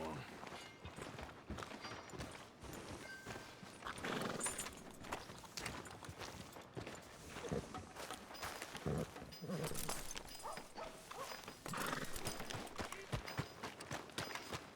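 Steady clip-clop of horse hooves plods along in a rhythmic walk in Red Dead Redemption 2, with ambient game sounds and occasional voices mixed in.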